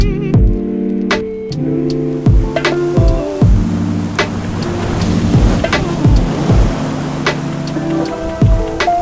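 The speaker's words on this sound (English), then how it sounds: "The ocean's quite rough because we've just had a storm." Rough ocean surf churning after a storm, a steady broadband wash of breaking waves that runs loud and unbroken throughout, with a few brief tonal cries over the roar.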